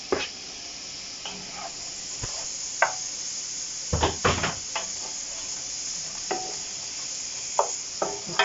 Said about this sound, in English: and with the onions, listen to them sizzle